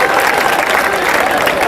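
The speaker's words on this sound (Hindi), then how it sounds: "एक बार जोरदार तालियां बजाए साहब मिलके" Audience clapping hard at a comedy poetry show, a brief burst of dense, loud applause with crowd murmur mixed underneath.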